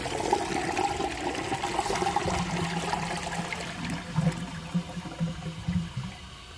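A 1992 Universal-Rundle Atlas toilet flushes with a dish towel in the bowl, a close, loud rushing swirl of water that tapers into gurgles and trickles, with no talking.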